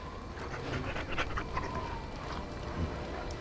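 A dog in the video game Dragon Age: Origins pants steadily, a soft rhythmic breathing close up over a constant ambient game background, with a faint whimper-like tone.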